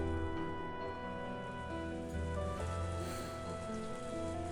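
Heavy rain in the Higurashi When They Cry video game: a steady, dense downpour that hisses evenly throughout, under a sustained tonal music bed.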